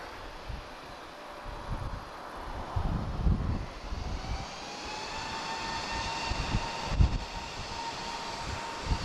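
Airplane at Lisbon Airport, its engine rumbling and whining from a distance with a rising tone over low wind-like noise.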